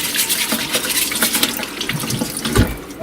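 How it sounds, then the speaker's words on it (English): Water runs from a tap into a sink in a steady splashing stream while potatoes are scrubbed with a brush to remove dirt, the flow rising and falling as they are moved under it. "This is our running water, isn't it?"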